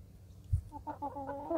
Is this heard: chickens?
yes